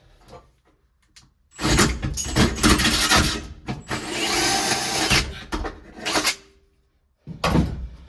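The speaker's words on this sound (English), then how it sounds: "So I'm going to go ahead and bore that out with the hole saw." A 2-inch hole saw bores through the floor of a Mopar A/B/E-body car, a loud grinding drill run of about four seconds with brief bursts before and after, close up.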